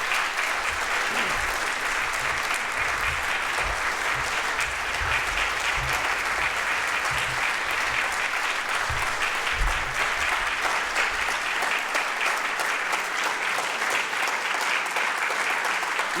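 Sustained applause from a conference audience fills the room after a closing speech, a dense, steady wash of clapping that holds at full strength throughout with no voices over it.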